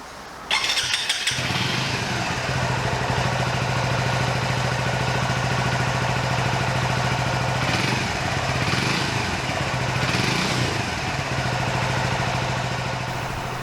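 A brand new motorbike engine starts with a quick burst after a brief cranking moment, then settles into a steady, close idle with a constant low hum that holds for the rest of the run.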